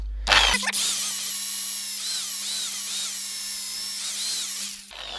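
A power drill fitted with a wire brush scours the bore of an engine mount, a loud steady whine with a scratchy abrasive edge that runs for several seconds before stopping abruptly.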